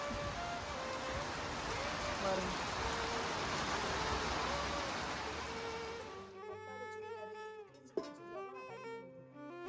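Rain falls steadily outside a home, a dense hiss of drops on surfaces for most of the stretch. It then gives way to quieter sounds with a sharp knock near the end.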